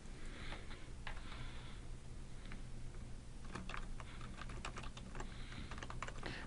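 Keys clatter on a computer keyboard in short bursts of quick typing with brief pauses, fairly close and quiet, with no talking.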